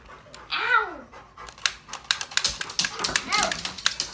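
A dog pants in quick rhythmic bursts close by, with whines and soft taps, while people talk over it.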